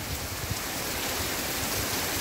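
Steady rain falls outdoors at a rural home, a dense, even hiss of drops with no breaks and no voices.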